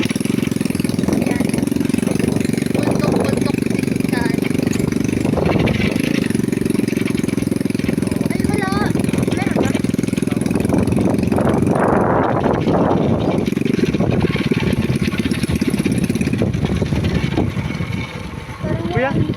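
A motorcycle engine idles steadily throughout, with people talking over it and wind buffeting the microphone outdoors on the way to a beach.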